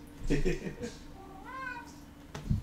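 A pet cat meows near the microphone with a clear rising and falling call in the middle, surrounded by brief bits of indoor talk.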